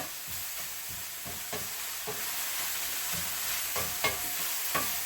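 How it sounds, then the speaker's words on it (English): Greens sizzling in a pan for a summer squash and basil dish, a soft steady fry with repeated scraping stirs and light utensil knocks at close range, no voices. "I'm now going to add the greens."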